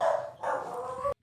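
A dog barks in a quick run of sharp yips and bow-wows, close and fairly loud, with no voices, before breaking off into silence.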